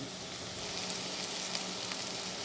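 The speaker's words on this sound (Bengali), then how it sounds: "পেঁয়াজ তেলে ভেজে" Onions fry in oil in a pan with a soft, steady sizzle and a few faint crackles, heard fairly quietly with no voices.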